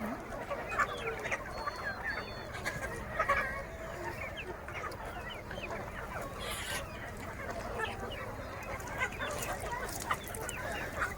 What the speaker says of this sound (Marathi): ह्या सर्व कोंबड्या